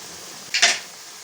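A cup of water is tipped into a cooking pot while making kaleji (liver) masala, giving one short, bright splash and hiss of about a quarter second that rises briefly over a quiet kitchen background.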